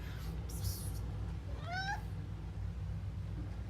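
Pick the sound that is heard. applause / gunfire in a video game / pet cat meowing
pet cat meowing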